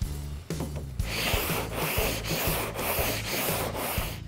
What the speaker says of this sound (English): I'm going to start sanding it with a fresh piece of 80 grit, again the cross blocking